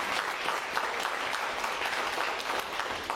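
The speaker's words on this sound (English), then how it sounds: "I think that deserves a big round of applause." Audience applause follows a post-fight presentation speech at a combat match, a dense, steady clapping from a large crowd that stays loud and even from start to finish with no talking.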